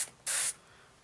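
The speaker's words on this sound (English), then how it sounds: "let's spray this bit through." An airbrush gives a single short hiss of paint spray, about a quarter second long, while painting a 1/48 scale Hobbycraft Messerschmitt Bf 109B-1 model aircraft. Quiet room noise surrounds it.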